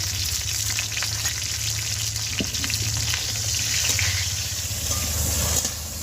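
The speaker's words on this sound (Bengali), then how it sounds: "ফুলকপিটা ভাজা হয়ে গিয়েছে এবার আমি থালায় তুলে নেবো" Cauliflower frying in oil with salt and turmeric, a loud, steady close sizzle with light crackling and a low constant hum underneath, no talking.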